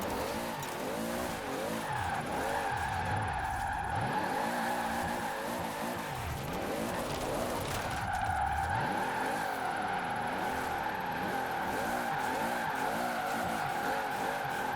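In Forza Horizon 4, a turbocharged Toyota GT86 tuned to 1600 horsepower revs hard and holds its engine note while the tyres squeal and skid almost without pause on a mountain road.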